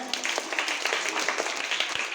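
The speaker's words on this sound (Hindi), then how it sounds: "एक बार गणपति बप्पा के लिए जोरदार ताली हो जाए।" A crowd at a school science project exhibition claps together in quick, scattered applause, moderately loud and steady throughout with a faint murmur of voices.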